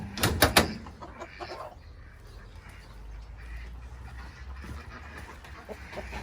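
Small Rhode Island Red bantam chickens in a poultry pen give a few sharp, loud squawks near the start, followed by softer clucking and low rustling against a steady background hum.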